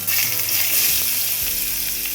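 Chopped onion, half an onion, frying in oil for a Bengali dahi katla fish curry, a steady close sizzle with faint stirring, alone throughout.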